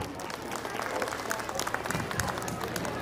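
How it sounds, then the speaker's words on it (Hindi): A school annual function audience claps loudly and steadily for a group of girls performing a Bengali dance, a dense crowd applause that fills the whole stretch with voices mixed in. "बंगाली गर्ल्स के लिए जोरदार तालियां।"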